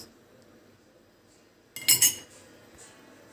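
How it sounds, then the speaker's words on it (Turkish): A short burst of metallic clinking and scraping of a spoon stirring peas and water in a cooking pot, lasting under a second amid quiet background. "Hafiften tekrar karıştırıyoruz"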